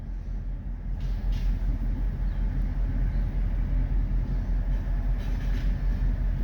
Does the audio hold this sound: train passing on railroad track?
yes